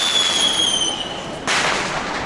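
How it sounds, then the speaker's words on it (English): Fireworks going off at the Fallas festival in Valencia, Spain: whistling rockets trail off, then a sharp loud burst of crackling explosions erupts near the end, with no voices. "they've cordoned it off so they can let off loads of fireworks to celebrate this festival"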